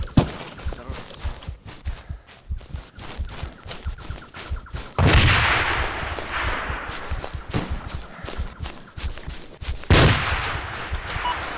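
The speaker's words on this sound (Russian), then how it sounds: "Я вот даже слышал сейчас его выстрел" Bursts of video game gunfire, sharp loud cracks with two heavy blasts standing out, over a busy layer of footsteps and rattling.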